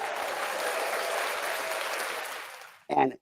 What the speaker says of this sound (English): Now you can go ahead and put in the applause.